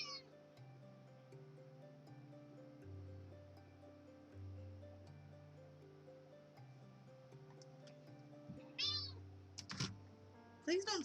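Pet cat meowing near a streamer's desk, a couple of short, high mews near the end over a quiet bed of soft background music and faint ticking.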